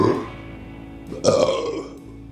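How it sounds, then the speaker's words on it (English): Loud, deep burps from a man eating a huge roast chicken during a food challenge, one drawn-out belch following a shorter one, close to the mic with no talking over them. "There's those burps I was trying to get."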